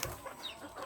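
Bantam chickens clucking close by in a farm setting, a brief busy burst of soft clucks and calls with no talking.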